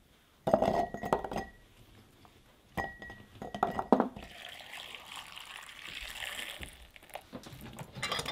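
Glass canning jars clink and knock together in a kitchen while raw garlic is packed for pickling in vinegar: a few bright bursts of clatter, then a softer running-water wash with scattered taps.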